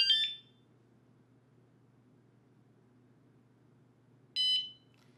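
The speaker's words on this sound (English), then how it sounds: "you're gonna hear two different beeps" An ebike security alarm (Jetson Bolt Pro) gives two short, loud electronic beeps as it arms, one at the start and another about four seconds later, with quiet background hum between.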